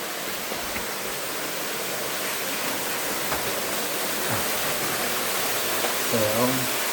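Steady, broadband rushing of a waterfall inside a cave in Cavinti, filling the space evenly throughout, with a faint voice briefly near the end.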